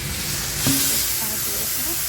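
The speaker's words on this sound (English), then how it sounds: "So you have to fry it very well so that it will be dry." Ground egusi seeds fry in a pot on a gas stove, giving a steady, loud sizzling hiss with a brief clatter partway through and no break in the frying noise.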